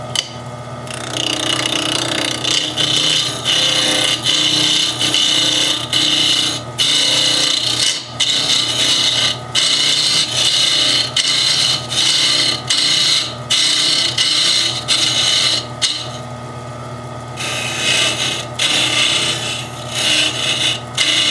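A wood lathe spins while a tool scrapes and rubs the edge of a wooden inlay for a compact mirror down toward the mandrel in repeated passes, loud and close, with brief pauses between cuts.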